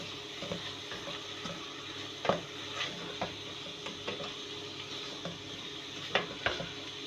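Minced meat and capsicum are stirred and fried in a pan, with a soft continuous sizzle under irregular scraping and clinking of the spoon against the pan, close but fairly quiet, no talking.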